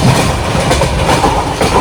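Moving train rumbling loudly from inside a carriage near Panvel, a steady heavy roar with faint rhythmic rattling of the wheels.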